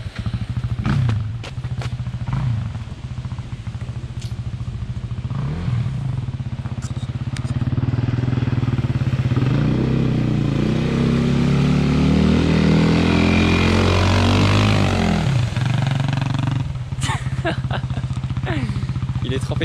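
A motocross motorcycle rides through water, its loud engine droning and revving near by, rising and falling through the crossing, with splashing clatter and a few thuds on top.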